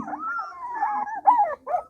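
A Pahari Gaddi breed dog whimpers and whines in drawn-out, wavering high-pitched cries, close by and alone, breaking into a few shorter yelps near the end.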